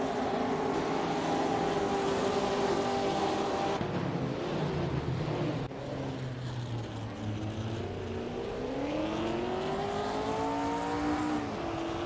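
Engines of 1950s sports cars driven by AI in a racing video game drone and shift pitch continuously, several cars layered and rising and falling as they accelerate, steady and moderately loud with no talk.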